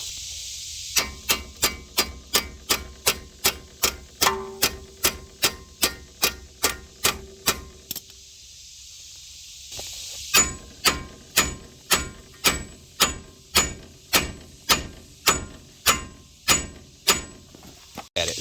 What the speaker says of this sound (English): now we're just going to hammer on this to pull that out